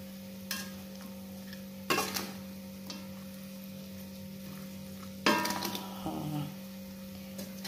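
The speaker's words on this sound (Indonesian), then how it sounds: "Nah, kita aduk terus ya sampai merata. Kita aduk pelan-pelan." Potatoes in sambal goreng stirred in a pan, with a few scraping, clacking stirs standing out over a steady low hum and faint background sizzle.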